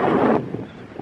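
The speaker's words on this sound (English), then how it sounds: "It's far too windy." Strong wind on a hilltop during a hill walk blasts across the microphone as a loud roaring rush that abruptly drops away after a moment, leaving quieter gusty rumble.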